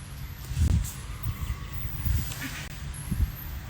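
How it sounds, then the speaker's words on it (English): A flock of geese flies by, giving a few scattered, moderately loud honks over a low background rumble. "them geese scared the hell out of me flying by."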